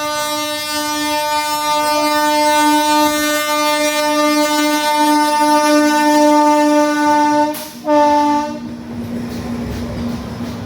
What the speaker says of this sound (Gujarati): તમે ખાલી જુઓ હોરન મારતી મારતી આવે છો ટ્રેન